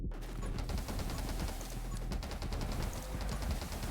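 Rapid machine gun fire from the video game 20 Minutes Till Dawn rattles continuously in a dense, steady stream of shots, moderately loud with no pauses.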